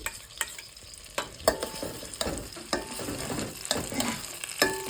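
Blended paste stirred into melted butter in a pan for a creamy chicken pasta sauce: a soft continuous sizzle with repeated scraping strokes of a spoon, close by and with no voices.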